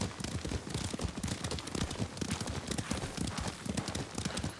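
Horse hooves clip-clop in a steady, quick rhythm at moderate volume in the video game Ghost of Tsushima, with a soft background hiss and no talking.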